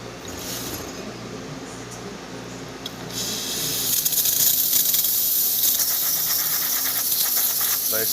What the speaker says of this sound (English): Let's go ahead and check the steam.